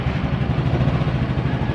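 A car engine runs at idle up close during a wireless kill switch installation, a loud, steady rumble with a slight clattering pulse and no voices.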